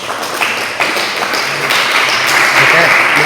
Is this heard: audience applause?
yes